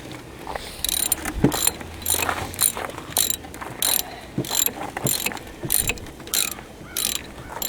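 Ratchet wrench clicking in repeated short bursts while tightening brake caliper bolts on a 2002 Dodge Caravan Sport, close and fairly quiet, with small metallic clanks between strokes.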